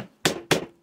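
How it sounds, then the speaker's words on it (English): A small hammer taps the corners of a sealed bag of sprouted millet flour: two sharp, close knocks about a quarter second apart, with no talk. "little hammer won't hurt, right? Little hammer to the corners."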